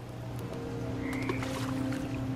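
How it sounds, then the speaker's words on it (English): Toads croak in a dark place in the video game What Remains of Edith Finch, a low steady croaking drone with a few faint higher chirps over ambient game sound. "And toads."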